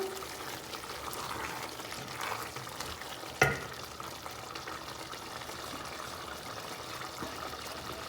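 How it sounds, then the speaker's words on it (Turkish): Steady sizzle with gentle bubbling as pasta simmers in cream sauce in a pot, one brief clatter near the middle, no talking. "Birazcık da kremamla makarnam kaynasın."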